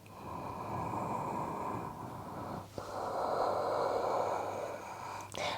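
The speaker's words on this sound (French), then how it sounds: "Une respiration complète." A single full yoga breath moves from a downward dog pose, quiet and close. It is a long, steady airflow with a sharp sniff partway through and another quick intake at the end, with no talking.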